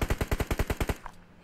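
Automatic gunfire in a video game: a quick burst of about nine evenly spaced shots lasting under a second, loud and close, then a faint trailing thud and quiet.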